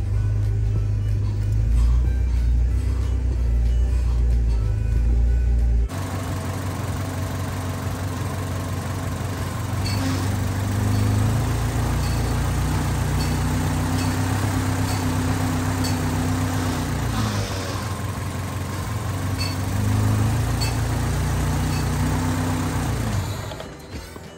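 A 1998 Honda Civic with a suspected brake master cylinder fault runs as it is pulled out of a shop, a steady engine drone that shifts in tone partway through and carries on to the end.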